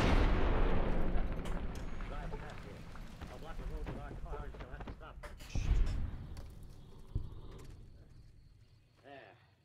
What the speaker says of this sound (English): that 50 cal I'm shooting? Yeah, that's explosive rounds